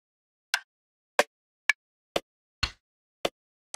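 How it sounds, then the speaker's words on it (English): Amapiano rim shot drum samples auditioned in FL Studio, six short, sharp, dry clicks played one at a time with even gaps, clear and alone. "So listen to a couple of rim shots."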